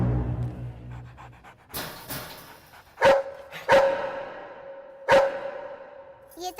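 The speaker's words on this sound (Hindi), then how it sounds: "ये तो कुत्ता है।" A dog barks in a scene from a Hindi movie, with heavy panting at first followed by several sharp, loud barks spaced a second or so apart, mixed with whooshing film sound and some voices.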